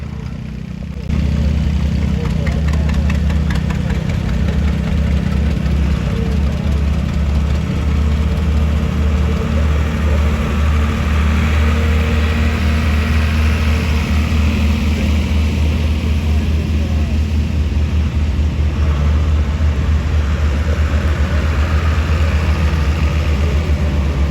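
Deep, rumbling engines of vintage tractors, including a 730 and a 2520, idle steadily and loudly nearby at a tractor parade in Caledonia, New York, a continuous low throb with mechanical chugging that holds for the whole stretch.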